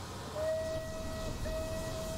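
A steam locomotive whistle in Train Simulator Classic on a heritage valley railway, sounding two long steady blasts with a short gap between them.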